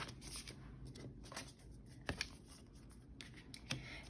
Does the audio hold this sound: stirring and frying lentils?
no